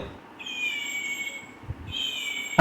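A cat gives two drawn-out, high, thin meows, the second following a short pause after the first, against a low background of room hum during a family's Vishu holiday visit.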